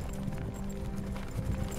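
Horses clip-clop in the fantasy strategy game Warcraft 3, a quick run of hoof beats on hard ground, close and continuous under game music.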